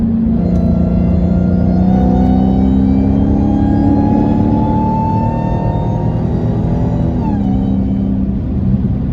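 A car engine revs with a high supercharger whine riding over a loud, close rumble, pitch climbing steadily then dropping off near the end, with no voices.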